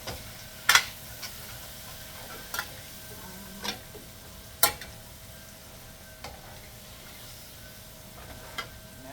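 Honey chicken sizzles gently in a pan while being stirred, with a faint steady frying hiss broken by occasional sharp scrapes and clinks of the utensil against the pan.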